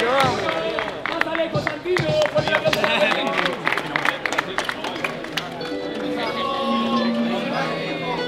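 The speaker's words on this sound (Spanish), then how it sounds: "¡Fuerte el aplauso!" A crowd at a 3-vs-3 freestyle rap battle semifinal claps and cheers in a loud, dense burst with shouting voices over it, then settles into a murmuring hubbub.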